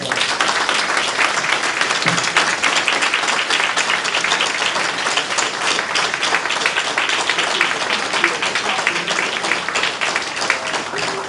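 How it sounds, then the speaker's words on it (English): An audience at a school board meeting breaks into sustained applause, a dense, even wash of many hands clapping that carries on for over ten seconds. "Let's give a round of applause."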